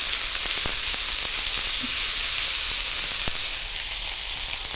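Diced onion sizzles and fries in a very hot pan, a steady close hiss broken by a few sharp crackles and pops, with no talking.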